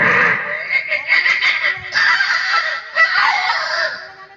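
A human voice imitating a vulture's call, a series of harsh, nasal, honking squawks with rising and falling pitch, close and loud, forming a continuous run of calls over about four seconds.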